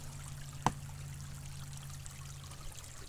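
A brook trickles in a soft, steady wash with a faint low hum, and a single sharp knock cuts in briefly near the start.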